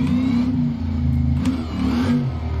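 A car engine in the video game BeamNG.drive revs and whirs up and down in quick, slightly sped-up surges, close and steady with no talking.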